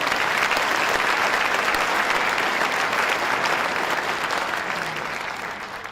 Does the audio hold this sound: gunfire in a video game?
no